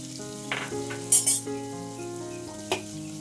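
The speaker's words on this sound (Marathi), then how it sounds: "आता हे पनीर कमी आचेवर हलकासा सोनेरी रंग येईपर्यंत फ्राय करायचे" Paneer pieces frying over low heat in melted butter in a pan, a steady soft sizzle with a few clinks of a utensil against the pan and one brief louder scrape.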